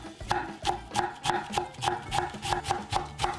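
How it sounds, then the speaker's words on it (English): A knife chops cabbage finely on a cutting board in a steady, even rhythm of close, crisp thuds, about three strokes per second, with no talk over them. "Cut your cabbage in half. Chop it very fine."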